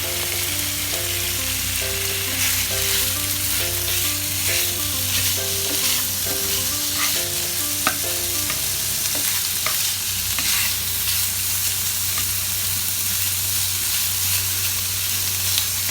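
Ground pork sizzles and is stirred in a hot pan while cooking sotanghon, a steady loud frying hiss with scraping spatula strokes and clinks, and light music playing underneath.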